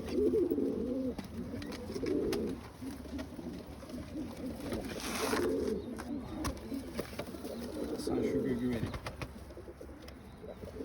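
Pigeons coo in bursts of low throaty calls, rising and falling over about ten seconds with a few sharp chirps and a brief rustle midway, fairly close but moderately quiet.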